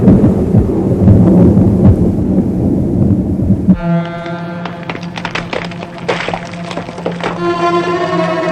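Deep rumbling thunder rolls through a storm for the first few seconds, then gives way to a different, tonal mechanical hum with clattering, as around a fuel-laden aircraft test site.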